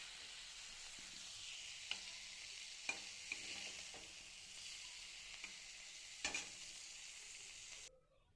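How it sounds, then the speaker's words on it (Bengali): Dry red chillies, bay leaves and cumin crackle in hot mustard oil in a kadai, a steady soft sizzle broken by a few sharp pops and spatula clinks, fading out at the end. "কড়াইটাতে সামান্য পরিমাণে সর্ষের তেল দিয়ে দেওয়ার পর এখানে 2টো শুকনো লঙ্কা, 2টো তেজপাতা আর সামান্য পরিমাণে জিরেটা ফোড়ন দিয়ে নিলাম"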